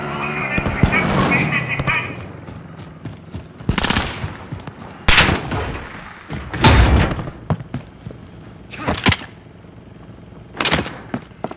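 Gunfire in Call of Duty: Modern Warfare (2019) during a base assault: loud bursts of automatic fire and sharp shots break out repeatedly in clusters, over a steady battle rumble, with shouted voices early on.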